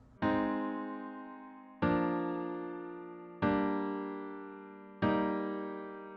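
A sustained minor chord struck four times at an even, unhurried pace, each ringing out and slowly decaying before the next strike.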